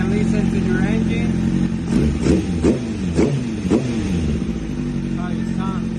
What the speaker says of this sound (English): You can listen to your engine.